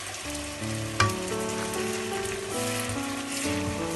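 Nuts fry in hot fat with a steady, close sizzle and a brief clatter about a second in, while faint tonal sounds run underneath.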